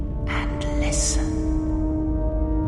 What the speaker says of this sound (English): The breathing of the blinded one as she meditates in the dark